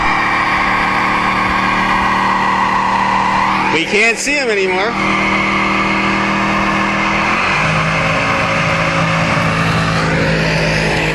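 A 1972 Mustang Grande engine revs hard during a smoking burnout, a loud sustained roar with a sudden tire squeal burst midway and a pitch drop near the end, while a voice speaks over it.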